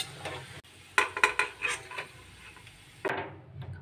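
Fried golden-brown onions lifted out of a pan of oil, with a few clear metallic scrapes and clinks of a utensil against the pan, one heavier knock near the end, faint sizzle beneath.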